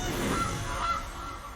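A goose honk plays from the Gilded Goose card in the MTG Arena digital card game, a short, moderately loud nasal call with a second honk following closely, standing alone without talk.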